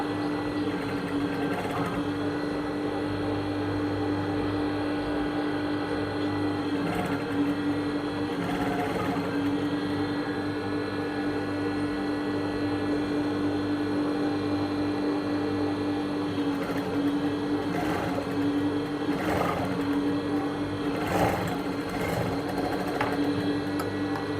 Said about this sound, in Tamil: இப்போ நம்ம 2 பக்கமும் தையல் போட்டுட்டோம் இல்லைங்களா